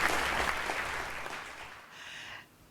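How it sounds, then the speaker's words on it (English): A school audience applauding the head of a well-being team, a full round of clapping that gradually thins and fades toward the end. "Can we have a loud round of applause for Ms."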